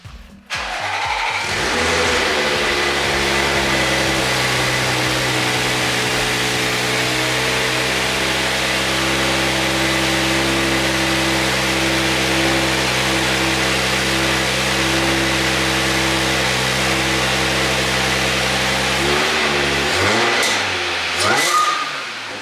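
An Audi S4 B8.5 with an ECS Tuning valved exhaust starts up and settles into a loud, steady idle that drones on close by for most of the run. The engine blips briefly near the end before cutting off.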